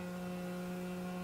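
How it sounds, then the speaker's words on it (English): A wireless dog training collar vibrating, making a steady close-up electric buzz with a strong low hum and bright harmonic overtones, constant and unbroken. "this is the vibration part of the collar, so you can kind of get a general idea of seeing how that is kind of buzzing"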